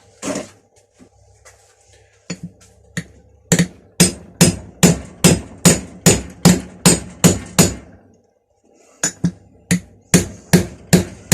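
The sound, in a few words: hammering metal on homemade railroad track anvil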